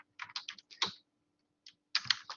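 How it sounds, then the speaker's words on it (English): Keys clatter on a computer keyboard while a formula is entered in an Excel spreadsheet, two quick bursts of close, crisp clicks separated by a short pause, with no talking. "And now I have to type revenues."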